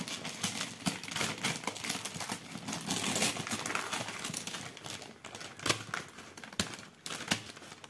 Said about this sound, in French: vous entendez que j'ouvre le carton, déjà l'emballage avec vous